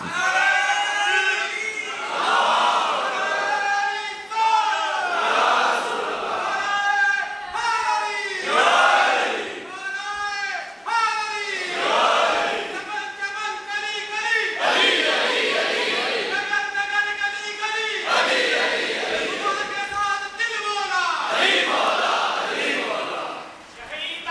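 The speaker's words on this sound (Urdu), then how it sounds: "کسی نے نعرہ بلند کیا تھا" A large crowd at an Islamic religious gathering chants a slogan in unison, loud and close, with repeated rhythmic call-and-response surges filling the whole stretch.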